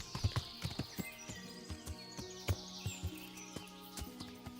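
Horse hooves clip-clopping in the medieval game Kingdom Come: Deliverance, with faint irregular thuds on the ground and light birdsong behind them, all quiet and somewhat distant.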